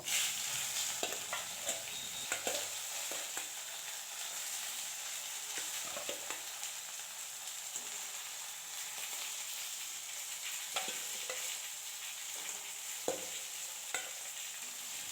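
Fried katla fish pieces sizzle steadily in a pan of oil tempered with bay leaf and cumin, a constant hiss with occasional clinks and stirring scrapes as the pieces go back in one by one.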